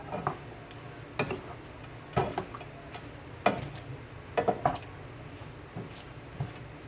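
Shrimp get stirred into coconut milk in a pan for a Jamaican-style rundown, giving soft, scattered utensil scrapes and taps over a faint simmer. The sounds are quiet and irregular.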